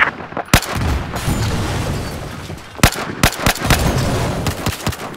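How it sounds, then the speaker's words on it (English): Battlefield 4 combat brings repeated loud gunshots and explosions, sharp cracks and heavy booms spaced irregularly through a dense rumbling battle backdrop. "Oh, things are exploding. Things exploding are fun."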